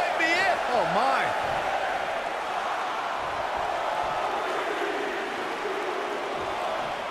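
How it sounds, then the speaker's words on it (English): A video game arena crowd in WWE 2K19 roars during a Royal Rumble match, a steady wash of cheering that continues throughout while a commentator talks over it. "Listen to this crowd."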